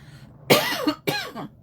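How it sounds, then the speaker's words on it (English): Two harsh, close coughs in quick succession, each a short rough burst, with no talking around them. "I've had this cough all day."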